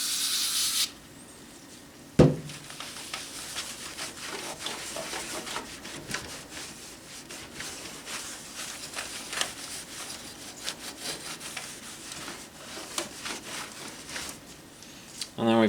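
Cloth rubbing across the dirty front bezel of a Dell Precision T3500 tower, a steady scratchy swishing of repeated strokes at close range, with a sharp knock near the start.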